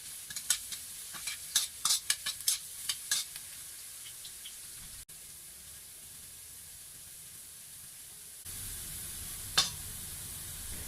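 Garlic frying in oil in a pan: bursts of crackling sizzle and stirring early on, easing into a softer, steady hiss, with another sharp spatter near the end.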